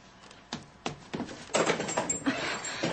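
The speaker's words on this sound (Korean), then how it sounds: "마침 현관 계단이 삐걱거리면서 누군가 들어오는 소리가 났다." Wooden porch stairs creaking and thumping as someone steps up and comes in, a series of irregular creaks and knocks building from sparse taps to a denser run of footfalls near the end.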